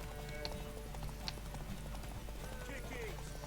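Horse hooves clip-clop steadily in The Witcher 3, a close, continuous rhythm of steps under game music and background voices.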